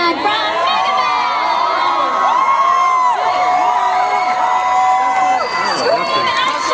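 A packed audience at the Comikaze cosplay contest in Los Angeles screams, whoops and cheers loudly and continuously, many overlapping shrill voices close by.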